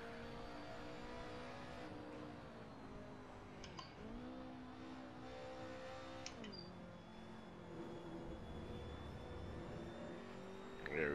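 BMW E30 Group A race car engine at full throttle on the Spa circuit, a steady sustained drone heard from inside the car with rising and falling pitch through gear changes, no talk.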